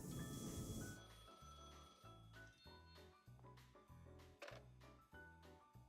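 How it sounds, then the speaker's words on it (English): A telephone rings in the video game Blue Archive: a repeating electronic ring pattern in regular pulses, fairly faint, following a short burst of louder noise at the start, with no talking. "That was the phone."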